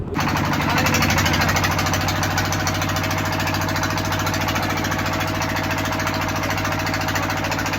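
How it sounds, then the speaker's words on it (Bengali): A small engine-powered passenger boat motor runs near the beach at Guliakhali, throbbing loud and close with a continuous rattling chug and no pauses, no voices audible. "গুলিয়াখালী সি বিচটার ইমিডিয়েট আগে খুব অল্প দূরত্বে যাওয়ার জন্য এরকম ইঞ্জিন একটা বোটে উঠতে হয়"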